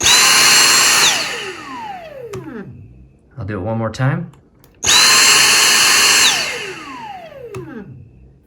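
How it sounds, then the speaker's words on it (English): A Dyson DC59 cordless vacuum whines loudly, winds down, then restarts and spins down again, with a short spoken remark in the pause between runs. "I want you to hear these sounds of each vacuum cleaner"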